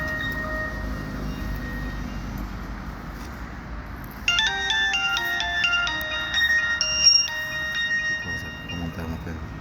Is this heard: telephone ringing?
yes